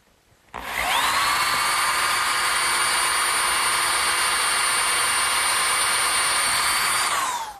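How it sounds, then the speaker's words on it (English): Power drill boring pilot holes through a metal bracket on a wooden garden swing, one continuous high whine lasting about seven seconds at steady speed, close and loud with no talk. "I'm going to have to pre-drill some holes through the bracket for the nails"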